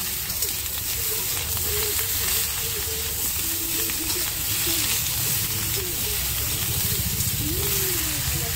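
Ridge gourd with turmeric being stirred in a frying pan: a constant hissing sizzle with soft scraping underneath, plus faint background sounds.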